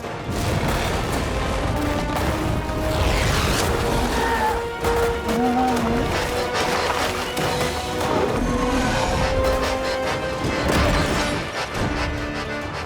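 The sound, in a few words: water cannons firing, Playmobil Novelmore animation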